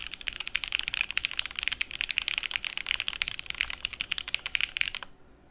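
Fast, continuous typing on a gasket-mount Yeti mechanical keyboard fitted with Lavender switches, a dense run of close, crisp keystroke clacks for about five seconds before stopping abruptly.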